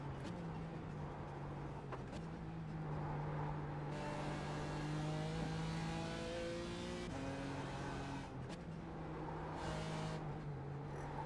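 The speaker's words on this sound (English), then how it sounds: "the Cayman's a blast to drive on these twisty tracks" A Porsche Cayman in a sim racing game on a twisty track, its engine revving up and down through repeated rising pulls and shift drops, with brief lifts and a hint of tire noise, fairly quiet overall.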